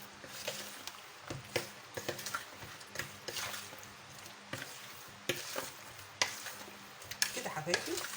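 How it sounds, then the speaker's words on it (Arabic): Chicken in its marinade mixture frying in a pan and stirred steadily, with a continuous sizzle broken by repeated scraping strokes of a spoon. "هقلب بقى الخليط ده كده"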